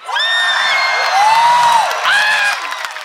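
A live concert audience cheering for the rappers, with loud piercing screams and whoops rising and falling over a continuous roar of crowd noise and applause.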